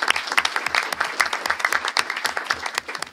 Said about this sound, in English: So let's give her another round of applause for the great job she does.